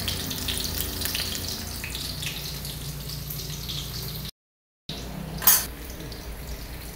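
Eggplant frying in a pan, a steady hissing sizzle that runs continuously, briefly cut off, then a sharp clink of cookware.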